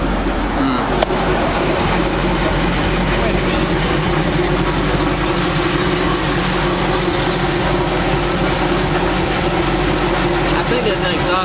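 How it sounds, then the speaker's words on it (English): A truck engine with an exhaust leak runs steadily, giving a loud, continuous rumble and rough broadband noise that holds unchanged for the whole stretch. "I think there's an exhaust leak right there."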